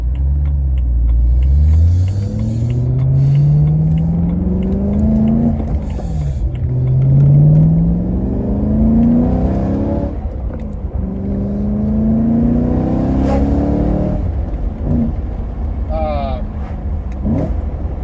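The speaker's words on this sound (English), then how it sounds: "one thing I really like about this exhaust is it's got a nice sound to it" A BMW E90 M3 with a six-speed manual gearbox: the exhaust drones and rises through several revs as it accelerates, shifting between gears, loud and steady with road rumble underneath.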